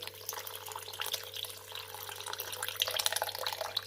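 Thin liquid tamarind extract pours steadily into a cooking pot for sundaikkai kuzhambu, a continuous close splashing trickle with no talking.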